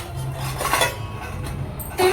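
Metal bowls clink and rattle against each other as they are unpacked from luggage, a short burst of close, bright clattering with a faint voice in the background.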